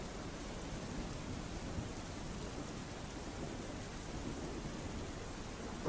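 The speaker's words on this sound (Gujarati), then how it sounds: "આટકોટ, વીરનગર, ચિતલિયા સહિતના વિસ્તારોમાં વરસાદ વરસ્યો છે" Steady rain pours over rural countryside around Jasdan in a thunderstorm, a dense, even hiss of falling water that stays constant throughout, with no distinct thunderclap standing out and no voices.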